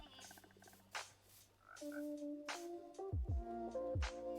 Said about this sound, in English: I've got some frogs.